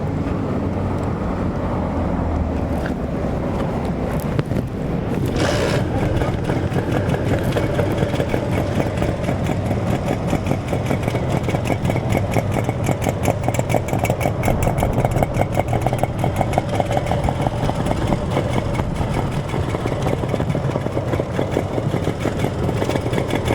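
A Suzuki GT200 X5 motorcycle engine runs steadily and loudly up close, a continuous buzzing two-stroke drone with a brief rise in revs near the start.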